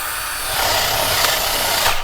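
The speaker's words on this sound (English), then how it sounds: "Now I can drill." A power drill bores random holes into a wooden wall panel for a DIY skull wall, a steady loud whirring grind that swells after a brief start and holds for about two seconds, with no talking.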